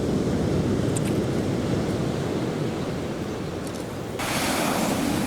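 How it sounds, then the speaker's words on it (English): Ocean surf washing in on the shingle beach at Birdlings Flat, New Zealand, as the tide rises, a steady broadband roar of waves with wind buffeting the microphone and a louder surge near the end. "The tide's coming in nicely."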